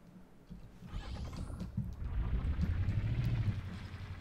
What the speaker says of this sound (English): The level 4 engine sounds pretty cool.